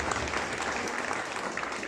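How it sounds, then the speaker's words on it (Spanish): A brief burst of dense, loud applause from a church congregation during a worship service, a continuous wash of many hands clapping together. "Aplausos, Señor"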